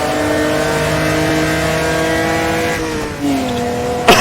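A car engine holds a steady high-revving drone with sustained harmonics while circuiting a racetrack during a practice lap, then shifts pitch near the end with a brief sharp burst, loud and close with no talk.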